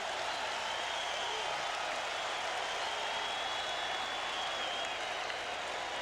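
A packed football stadium crowd at a Jets at Packers preseason game in Green Bay roars in a steady, distant wash of cheering that holds evenly throughout with no distinct voices standing out.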